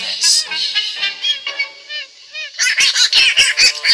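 A bird honks and squawks in a loud, rapid burst of repeated calls near the end, after a stretch of high, warbling cries.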